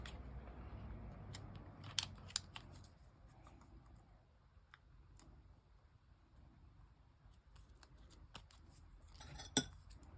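Paper is snipped with scissors during a craft project, a scattering of quick sharp cuts spread irregularly across a quiet room, close but faint with no talking.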